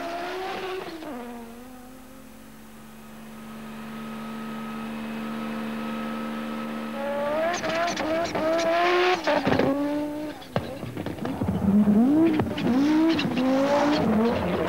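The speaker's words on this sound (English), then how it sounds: "Ari Vatanen in his 16-valve Peugeot 205." A 16-valve Peugeot 205 T16 rally car racing up Pikes Peak starts with a quieter steady drone, then revs hard and climbs through quick gear changes, its engine note rising and falling sharply, close and loud.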